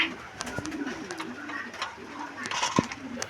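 Fancy pigeons of several colours, kept for sale, give soft low coos from close by. A faint, muffled voice is heard underneath the birds.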